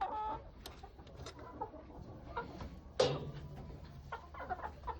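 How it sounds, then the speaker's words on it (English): Chickens clucking close by, several short, scattered calls from hens and a rooster, with one louder squawk midway over quiet farmyard background. "there's Tiny the rooster"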